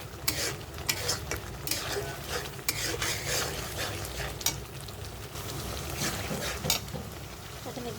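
Beef liver for bhuna is stir-fried in a pan. A spatula scrapes and clinks against the metal in steady strokes over a continuous close sizzle.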